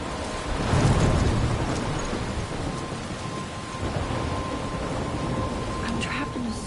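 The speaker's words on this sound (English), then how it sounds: "I'm trapped in a storm?" Thunderstorm in a PS4 video game, with steady heavy rain and rumbling thunder filling the whole stretch, swelling loudest near the start and then rolling on as a constant dense wash.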